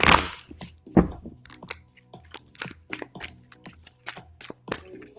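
Tarot cards are shuffled by hand at close range, giving a sparse run of crisp clicks, taps and soft slaps of card on card, with no talking.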